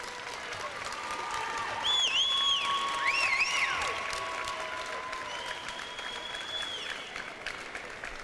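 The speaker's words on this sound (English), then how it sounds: "what I'd like for all of you to do is stand and applaud your parents and your loved ones" A 1993 Utica High School graduation audience stands and applauds parents and loved ones, a broad sustained roar of clapping with a few sharp whistles rising above it before it gradually thins.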